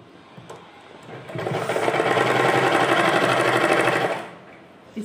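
A sewing machine runs steadily for about three seconds, stitching a double seam on a small summer dress for a Kanha ji idol. The whir is loud and close, and it starts and stops cleanly with no talking over it.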